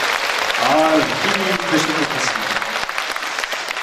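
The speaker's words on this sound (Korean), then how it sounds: "이해하신 분만 다시 한번 박수 한번 주시죠." Audience applause fills a hall at a lawmaker's constituency report meeting in Jeonju, steady clapping throughout with someone speaking over it early on.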